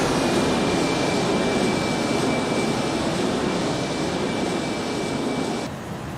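An iniBuilds Airbus A310 jet sweeps past in a flyby in the X-Plane 11 flight simulator, a loud, steady roaring jet wash with a thin whine, easing slightly at the end, no voices.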